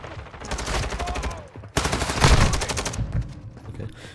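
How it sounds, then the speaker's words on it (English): AUG rifle firing from the hip in Call of Duty, rapid automatic bursts of close, sharp shots in two strings separated by a brief pause, the second burst louder and denser. "The hip fire for the AUG is really bad."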